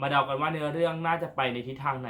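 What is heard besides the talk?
No everyday noise stands out behind the speech.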